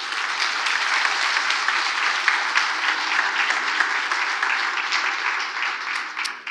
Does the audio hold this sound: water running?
no